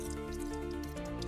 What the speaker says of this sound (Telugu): జస్ట్ ఇలా బుడగలు వచ్చేదాకా ఉడకనిస్తే సరిపోతుంది.